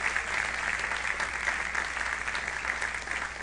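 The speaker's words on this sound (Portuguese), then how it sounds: "Você pode aplaudir ao Senhor por essa vitória" Church congregation at a Methodist celebration service applauds, a steady, fairly faint wash of clapping from a crowd that holds even throughout.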